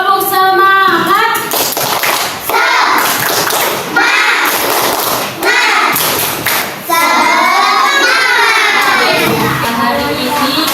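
First-grade pupils in a classroom do a rhythmic clapping chant, bursts of claps and loud shouted voices alternating in a lively, uneven beat that fills the room up close.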